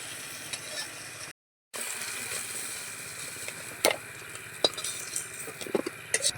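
Crab pieces frying in oil in a pan: a steady low sizzle with occasional sharp clinks and scrapes of a utensil against the pan, close and quiet, with a brief dropout of silence early on.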